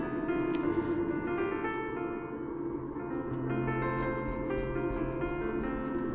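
Sandpaper of 220 grit rubs by hand across a painted wooden top to remove paint, a steady close scratchy rasp with a soft, continuous back-and-forth texture.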